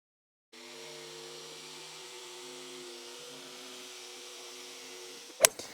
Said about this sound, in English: we're going to use this jigsaw. It's got a wood finishing blade in it, and we're going to go round and cut this thing to size